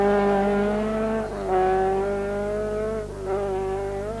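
A rally car, including McRae's, blasts along a tarmac stage of the 1983 Circuit of Ireland Rally, its loud, close engine wailing with rising and falling pitch through gear changes.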